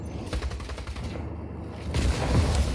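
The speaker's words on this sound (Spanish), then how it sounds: "con dos disparos me pueda cargar todo el mecanismo de un puente completo" Gunfire in the video game Just Cause 4, a dense rattling burst of rapid shots over heavy low rumble, briefly easing before a louder, booming barrage swells at the end.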